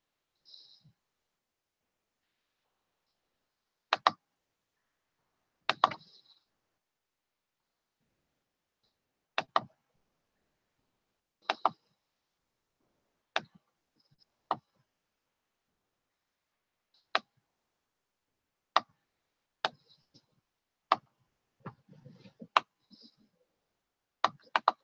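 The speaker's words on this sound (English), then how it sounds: "Then I'm going to click and bring it down here." Sharp, isolated mouse clicks spaced a few seconds apart during design work in GIMP, crisp and close against near silence, with a brief faint rustle toward the end.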